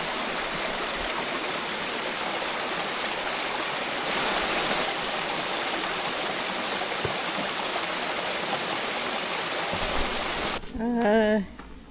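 Steady broadband rush of a flowing stream beside a hiking trail in Scotland, continuous and fairly close, with a voice briefly speaking near the end.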